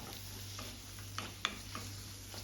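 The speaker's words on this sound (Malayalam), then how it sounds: "വെളുത്തുള്ളി ഇഞ്ചി ഇത് നല്ലപോലെ ഒന്ന് വഴറ്റിയെടുക്കാം" Garlic and ginger sautéing in a pan give a faint, steady sizzle with a few soft stirring clicks over a low background hum, and no one talks.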